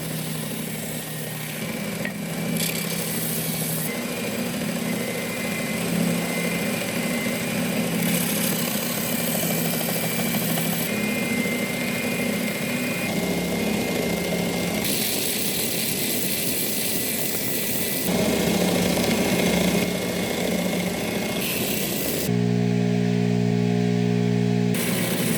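A power sander runs on wooden custom shelves, a steady loud whirring hum that holds for the whole stretch with small shifts in pitch and load as it moves across the wood.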